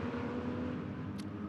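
Porsche Cayman race cars coming down into Clark Curve at Brands Hatch GP, a steady loud engine drone with whirring road noise, close and continuous.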